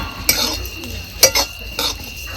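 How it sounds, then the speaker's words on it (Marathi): Sukat dried fish is dry-roasted in a pan and stirred, producing a few sharp metallic scrapes and clinks of a spoon against the pan over a low background, close and brief. "आपण हलवून हलवून हलवून भाजू"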